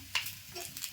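Ginger, garlic and green chilli sauté with browned onion in a pan, giving a faint sizzle with a couple of quick stirring scrapes close by, no voices.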